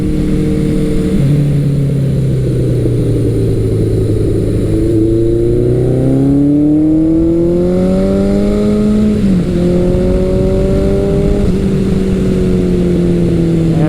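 A Kawasaki Eliminator 900 or Suzuki GS1100L motorcycle accelerates hard, its engine note climbing steadily through the gears with brief dips at each shift, loud and continuous with no talk.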